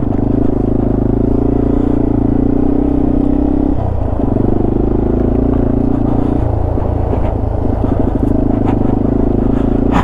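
Yamaha TW200 dual-sport motorcycle riding the Old Stage and Gold Camp routes near Colorado Springs, a loud close single-cylinder drone with pitch shifts at gear changes and some rattling clatter, heard continuously from the rider's position.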